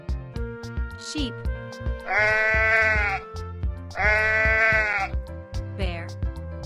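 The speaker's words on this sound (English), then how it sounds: "Sheep." A sheep bleats twice, each a loud, wavering baa lasting about a second, with a short spoken word and upbeat background music running throughout.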